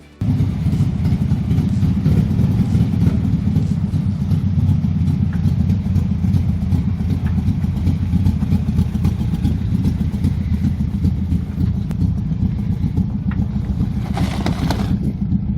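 A restored VW Beetle's air-cooled engine runs steadily from start to finish, a loud, continuous low rumble heard from inside the car while driving, with no talk over it.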